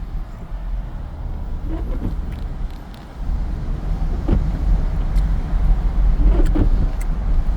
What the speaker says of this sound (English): Look at this car on my right.